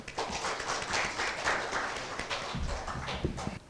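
An audience at a business conference session claps to welcome a presenter, a soft, steady round of applause that thins out toward the end.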